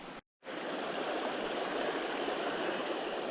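A creek flowing steadily, heard close from the bank as a broad continuous rush of water after a brief cut, loud and even with no talk.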